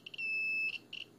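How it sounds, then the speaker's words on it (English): A radiation meter beeps close to a radioactive Bauer bowl, giving a run of short, high, piercing electronic chirps with one longer sustained tone in the middle, loud and clear with no talking. "despite all the beeping, it's not really that much radiation"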